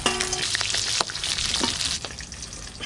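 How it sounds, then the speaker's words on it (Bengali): Fish frying in hot oil in a home kitchen, a dense steady sizzle with crackles and a few sharp spatters, close and loud with no talking. "মাছটা এত ভালো যে কি সুন্দর ভাজা হচ্ছে"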